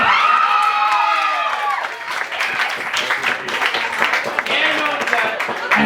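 Wedding guests break into applause and cheering, a dense crowd of clapping with shouts and whoops, loud and close, with voices calling out over the ovation throughout.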